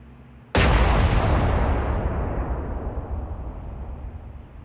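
A massive broadside of ten 14-inch naval guns fires in the War on the Sea game, one sudden deafening boom that rolls into a long, heavy rumble fading slowly over several seconds, with no voices.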